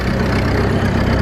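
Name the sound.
tractor engine exhaust running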